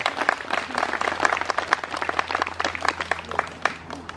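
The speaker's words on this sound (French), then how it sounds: "on peut l'applaudir" Audience applauds the author of a local legend at an outdoor nature and culture event, a steady crowd of many hands clapping close by for about four seconds with faint voices mixed in.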